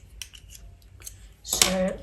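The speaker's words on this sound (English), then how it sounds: "we are ready to cut our borders" Scissors snipping through card borders, a few quick close metallic cuts followed by a louder rasping slice, with no talking.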